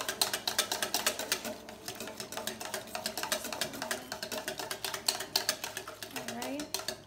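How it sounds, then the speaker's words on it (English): A whisk beats rapidly against a bowl in a kitchen, producing quick, regular clicking strokes that continue steadily throughout. "We're just gonna keep whisking."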